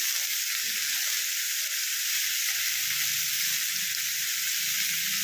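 Pumpkin curry with fenugreek frying in a pan, a steady loud sizzle with soft scraping and stirring sounds underneath.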